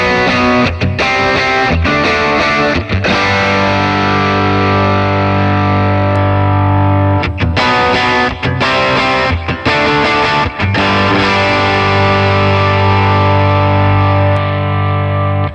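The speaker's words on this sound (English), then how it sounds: "we'll turn that King of Tone drive on and then cycle through these four cabs again so you can hear how they sound" Electric guitar played through a King of Tone overdrive into a Dr. Z cab: sustained, thick overdriven chords and ringing notes, loud and continuous with brief gaps between strums, and no talking.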